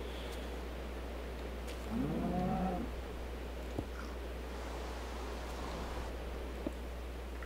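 A brief low moo from a cow in Minecraft rises around two seconds in over a steady hum and faint game background noise, with a couple of soft clicks later.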